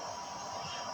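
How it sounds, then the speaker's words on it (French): An air conditioner hums in the background, a faint, steady noisy drone with a high whine throughout a brief moment, no voices. "En fait, c'est la clim qui est allumée."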